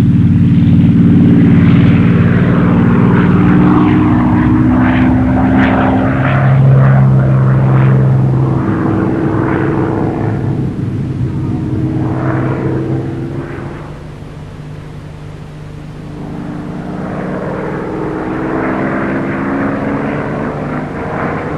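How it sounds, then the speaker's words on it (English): A Supermarine Spitfire fighter flies overhead, its loud propeller engine droning with a deep, steady tone that rises and falls in pitch as it passes, then recedes a little before swelling again. "nine RAF fighter squadrons were flying Spitfires, and as they sped overhead, small boys could look up and confidently say, "It's a Spit.""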